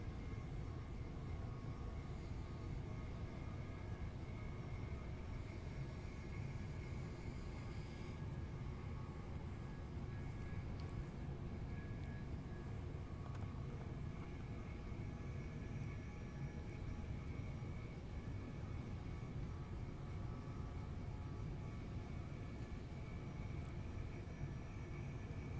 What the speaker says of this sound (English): when these trains are at high speeds, there's a little, I want to call it a whine, like a murmur as you're going at high speed